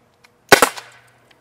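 A single sharp crack from a non-lethal gun fired at close range, loud and abrupt, followed by a quick echo and a brief decaying tail in otherwise quiet surroundings.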